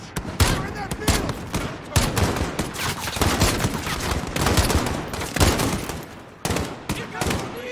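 Dense, loud gunfire from a Call of Duty: Modern Warfare firefight in an open field: rapid bursts and repeated shots crowd one another continuously, with fusillade-like volleys and machine-gun rattle and brief lulls, while voices occasionally shout beneath the shooting.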